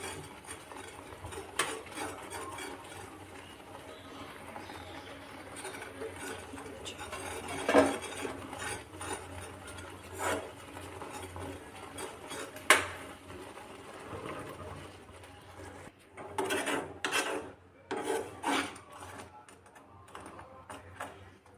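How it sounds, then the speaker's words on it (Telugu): A spoon stirs milk in a pan over a low flame, giving soft scraping and occasional clinks against the metal at an irregular pace, faint and close, with quiet background hum. "సిమ్లో పెట్టుకొని కలుపుతూ ఉండాలి ఒక టూ త్రీ మినిట్స్"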